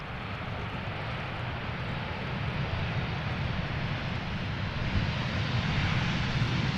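A Turkish Airlines airliner arriving at Amsterdam Schiphol Airport from Istanbul gives a continuous broadband jet roar, steady and fairly loud, growing slightly stronger partway through with no speech.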